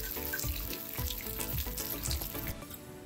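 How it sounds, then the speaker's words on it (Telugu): Lentils and dried red chillies fry in hot oil in a pan, a dense, steady sizzle and crackle with small pops, close and continuous without talk. "ఇవన్నీ కొంచెం ఎర్రగా అయ్యేలా మంచిగా దోరగా వేగేలాగా వేయించుకోవాలి"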